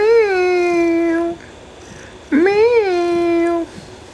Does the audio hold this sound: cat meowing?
yes